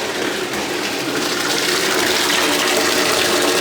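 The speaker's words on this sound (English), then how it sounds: "water will pump out back to the tank" Water gushes steadily as a pump returns it into a large reef aquarium, a loud, continuous close rushing flow with no voices.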